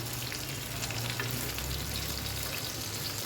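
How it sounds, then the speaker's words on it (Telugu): Fish frying in a pan over a medium flame, a continuous dense sizzle and spatter at steady close volume for the whole stretch, with no talking. "మీడియం ఫ్లేమ్లో సిమ్లో పెట్టుకుంటూ ఫ్రై చేసుకోవాలండి"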